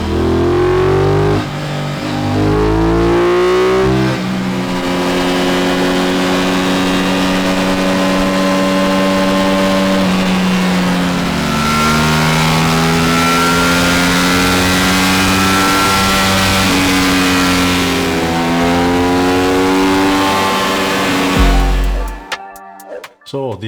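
An Aprilia RS660 motorcycle engine climbs steadily through the revs on a dyno in one long, loud pull, the pitch rising before it drops off near the end.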